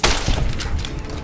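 Gunfire aimed at coyotes in the game Fallout New Vegas, a loud, close burst of sharp shots right at the start, followed by decaying rumble and scattered crackle.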